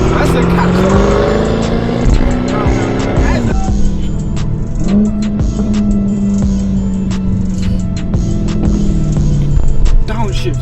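Car engine revving up and down through downshifts at a lively car meet, loud and close, with people talking and shouting over it throughout.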